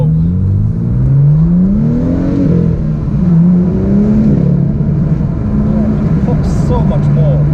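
A BMW M2 fitted with a modified exhaust revs in Sport Plus mode, loud and close, its engine note rising and falling through several throttle blips over a steady rumble, with a person speaking faintly over it.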